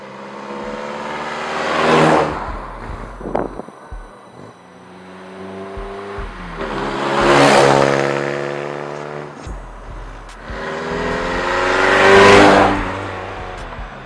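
A Honda Del Sol with a 1.6L VTEC engine revs three times, each a rising then falling engine whine swelling to a peak and easing back to idle, heard clearly without voices.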